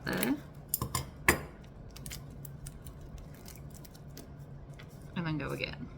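A few crisp scissor snips land in quick succession at the start, then give way to quieter handling and a final burst of cutting and rustling, close to the mic.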